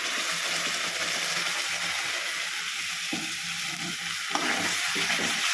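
Ground tomato paste with ginger garlic paste and onion sizzles steadily in a kadai for a prawn dish. A close, continuous hiss of frying is broken by a few scraping stirs, with no talking.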